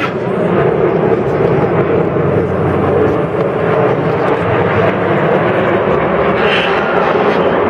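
A formation of eight aircraft passes overhead at an international air show in Roanne, producing a loud, continuous engine roar that holds steady throughout with no pause.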